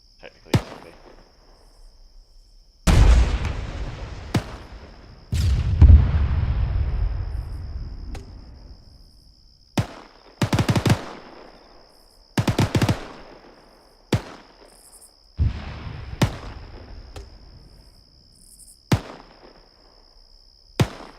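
Gunfire in Arma 3 squad training: loud, sharp single shots and short bursts crack at irregular intervals, some with long rolling echo tails, over a faint steady tone.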